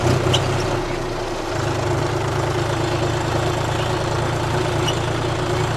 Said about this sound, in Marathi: चला आता मी ट्रॅक्टर चालवतो आता.